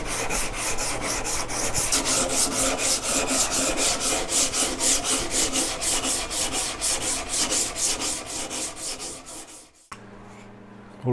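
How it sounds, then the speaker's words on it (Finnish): A sanding block rubs back and forth along the end-grain edges of a birch plank dining table, a steady rhythmic rasp of repeated strokes, close and loud, ending with a short quieter pause. "Pyyhkäsen nyt nuo päätykanti reunat hieman palikalla vähän"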